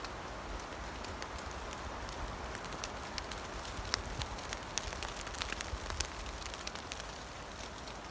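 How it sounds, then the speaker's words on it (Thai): Rain falls steadily with a soft hiss and scattered sharp drops pattering on nearby surfaces, no voices. "เพราะว่าฝนตกค่ะ ต้องรีบหน่อยค่ะ"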